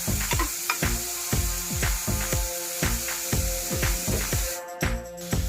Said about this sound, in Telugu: ఆనియన్స్, పచ్చిమిర్చి వేస్తున్నాను. ఇవి కూడా బాగా ఫ్రై అవ్వాలి